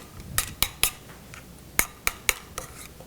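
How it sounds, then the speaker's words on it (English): Metal spoon scrapes and taps against a ring mould while working cashew cheese, giving a series of sharp, close clinks spaced irregularly with quiet pauses between them. "I'm going to use my spoon, just get in there"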